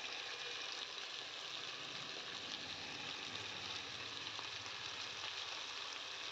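Cauliflower roast frying in a pan as a cashew and almond paste is added and mixed, giving a steady, even sizzle throughout with no talking.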